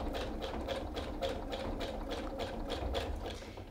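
Sewing machine running a zigzag stitch across a coiled rope base, a steady fast rhythmic clatter of needle strokes repeating evenly throughout, close and alone.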